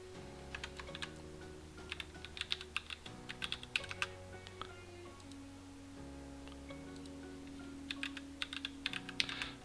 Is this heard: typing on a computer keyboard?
yes